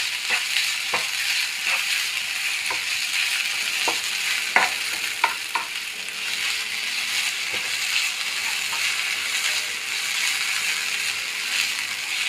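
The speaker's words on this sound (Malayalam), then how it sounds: "പിന്നെ ഒരു അരമുറിയുടെ പകുതി നാളികേരം ചെരുകി വെച്ചിട്ടുണ്ട്, അതിടാം. നേരിയതായിട്ടൊന്ന് ഫ്രൈ ആയിട്ടാം." Half a grated coconut frying lightly in a pan for ragi upma, a steady bright sizzle throughout with scattered scraping clicks from a spoon stirring, close and fairly loud.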